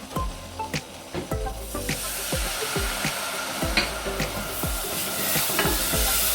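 Flour browning in a pan for mac and cheese gives off a steady close sizzle and hiss, broken by repeated scraping clicks from stirring that grow busier toward the end.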